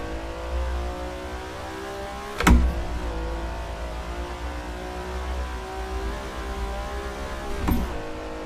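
Ferrari-style 330 P4 race car driven in the Assetto Corsa racing game, its engine droning steadily with rising harmonics and two sharp gear-shift bursts.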